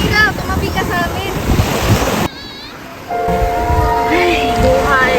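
Sea waves wash steadily onto the shore under buffeting wind noise, with the surf roar briefly dropping out before resuming, and a faint voice is heard.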